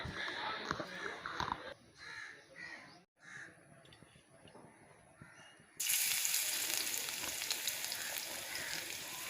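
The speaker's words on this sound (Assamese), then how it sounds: "এয়া মই তেলত থেতালি লোৱা নহৰুখিনি দি দিলোঁ" Crushed garlic is dropped into hot oil in a wok-like kerahi for a pumpkin-leaf fish curry. After a quieter stretch with crows cawing nearby, a loud, sudden sizzle erupts and holds steady to the end.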